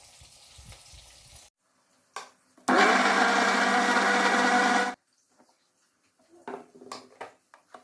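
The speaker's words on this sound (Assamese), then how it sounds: "এইখিনি এতিয়া মই মিক্সাৰত দিমগৈ।" A mixer grinder blends tomatoes in a home kitchen, roaring loud and steady for about two seconds, with quieter kitchen clatter and handling sounds before and after.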